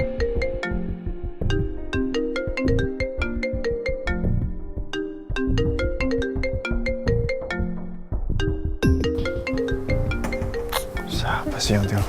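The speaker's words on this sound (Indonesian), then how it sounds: "Siapa sih yang telepon malam-malam?" A melodic phone ringtone plays at night, loud and steady, repeating its tune for about twelve seconds without a break.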